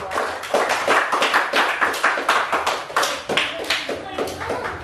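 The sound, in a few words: students clapping for a group in class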